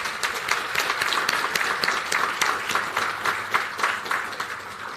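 An audience applauds students honoured with four SACE subject merits at a school Governor's Commendation and merit ceremony. The clapping is sustained and even, and it comes from a crowd in a hall.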